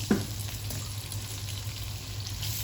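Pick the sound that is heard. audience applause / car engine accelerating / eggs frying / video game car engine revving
eggs frying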